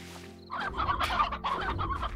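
A chicken in the video game Slime Rancher clucks several times in quick succession after a quiet start, close and clear over a faint low game background.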